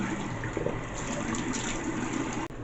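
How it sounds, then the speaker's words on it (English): Water runs and splashes steadily while a face is rinsed off after an electric facial device treatment, a close, continuous gushing wash that cuts off abruptly near the end. "I'm just gonna go ahead and rinse it off"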